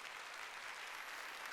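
A church congregation claps together in a steady, dense wash of applause that holds at an even level from start to finish.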